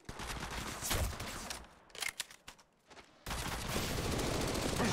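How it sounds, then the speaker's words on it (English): Enemy gunfire in Apex Legends Mobile, shown as dense automatic bursts that rattle on, break into scattered shots, then resume steadily until the end. No one speaks. "They're shooting at me."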